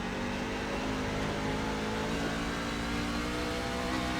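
A NASCAR truck engine in the iRacing sim at North Wilkesboro drones steadily at high revs, a dense, continuous buzzing roar with no pauses, heard alone.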